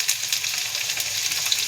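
Onions fry in a pan with a close, continuous crackling sizzle that holds steady throughout, with no speech over it.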